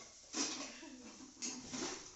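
A child playing with steel pots, plates and an idli vessel in a kitchen, making two soft bursts of metallic clatter and scraping at a distance.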